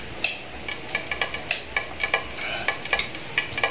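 Food being stirred again in a frying pan while cooking guso seaweed and tawilis fish, with repeated scraping clicks of the utensil over a soft sizzle, close and steady with no talk.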